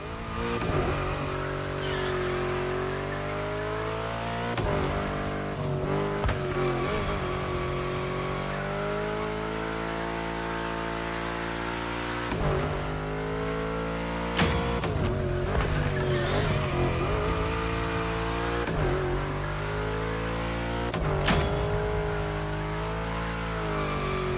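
A car in The Crew Motorfest racing game revs hard through bends, its engine climbing in pitch and then cutting sharply as the throttle lifts, repeated several times with occasional tire squeal, loud and continuous.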